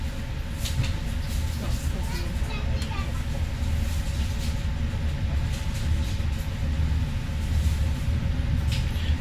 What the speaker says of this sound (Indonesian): kereta api Tegal Baharinya berangkat kembali dari stasiun Cikarang